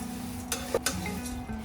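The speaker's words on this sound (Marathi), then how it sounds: "मग नंतर आपण गॅस चालू करायचा आणि मग पोहे असे छान ढवळत राहायचे" Dry poha being stirred in a kadai on a gas stove, soft rustling and scraping with a couple of sharper utensil knocks, close and brief.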